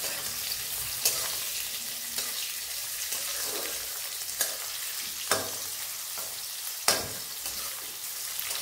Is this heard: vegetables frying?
yes